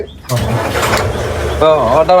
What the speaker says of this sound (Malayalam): ബോട്ട് സ്റ്റാർട്ട് ചെയ്യണം ഓക്കെ നമ്മൾ സെൽഫ് അടിച്ച് സ്റ്റാർട്ട്